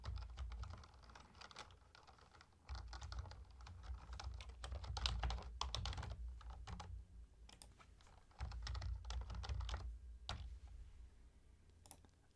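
Typing on a computer keyboard to sign in, a quiet run of quick key clicks in irregular bursts with short pauses, close but faint, and no voices.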